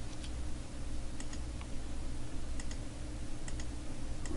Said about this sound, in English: shift clicking all the way down.